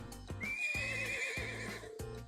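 A horse whinnies in a long rising and falling neigh over steady clip-clopping hooves, close and clear, with no talk.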